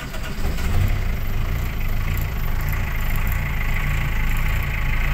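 A Chevrolet LUV station wagon engine idles steadily and loud and close, a continuous low rumble with slight fluctuations and no talking.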